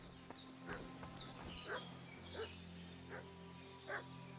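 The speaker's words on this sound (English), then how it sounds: "Why is he barking?" A dog barks about half a dozen times at a steady pace in the video game Kingdom Come: Deliverance II, moderately distant, over a low background hum.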